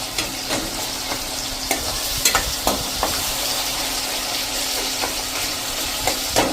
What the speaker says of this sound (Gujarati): હજી 1 મિનિટ આપણે ટમેટાને આ રીતે તેલમાં કૂક કરી લઈશું